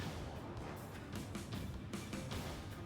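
A loud, rumbling whoosh of a missile launching in the video game Ace Combat Zero, with rough bursts and roaring blasts layered throughout, dense and close.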